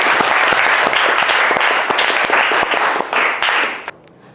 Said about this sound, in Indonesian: Oke, tepuk tangannya.